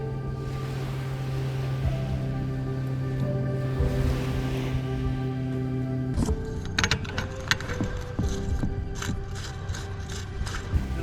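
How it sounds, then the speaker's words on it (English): A water transfer pump drawing from a reservoir to fill a pressure tank runs with a steady mechanical hum and rushing flow, then turns into a busier rattling churn partway through, close and continuous with no speech. "I'm going to go ahead and turn on the transfer pump."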